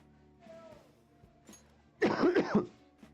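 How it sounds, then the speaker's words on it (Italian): A single burst of harsh, throaty coughing close to the microphone, preceded by faint quiet vocal sounds and low background hum. "Tosse, vai via per piacere"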